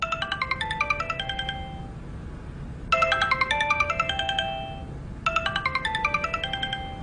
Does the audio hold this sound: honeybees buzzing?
no